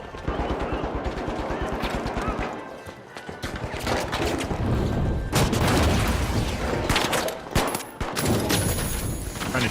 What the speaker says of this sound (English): Trying to shoot me through the wall.